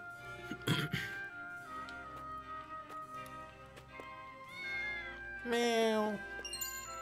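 A cat meows in the Triangle Strategy video game, with a couple of short mews over soft game music and a clearer, rising meow near the end.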